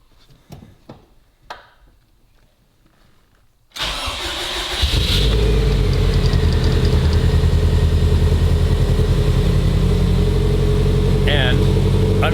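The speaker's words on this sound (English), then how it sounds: "I do have to start up the engine" A Subaru STI, neglected and under rebuild, cranks and fires after a few quiet clicks, then settles into a loud, steady idle with a brief whine, close up.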